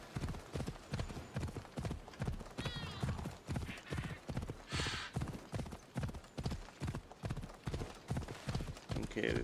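A horse's hooves clip-clop in a steady trotting rhythm in the video game Assassin's Creed Odyssey, close and even, with a brief whinny and some faint voice over the game sound.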